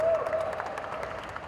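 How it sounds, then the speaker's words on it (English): Brief applause from a full house at a film event in India, a short burst of fairly quiet clapping with a background voice. "A big round of applause for you."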